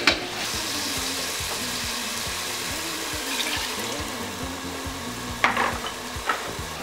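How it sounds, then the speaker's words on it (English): Meat broth is poured into a simmering pot of egusi with ground peanut, giving a continuous sizzling, bubbling rush of liquid, with a few sharp clatters of utensils near the end. "We'll now add our meat broth."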